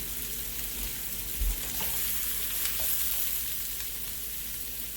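Plant butter sizzles steadily in a hot frying pan, a continuous hissing crackle at moderate volume with a soft bump partway through and no voices.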